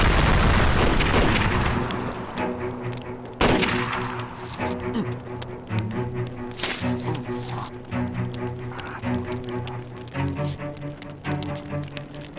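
A rocket explosion strikes during a Turkish TV war drama, loud at the start, then a second sharp blast around three seconds in, with crashing debris, music-like tones and shouting voices following.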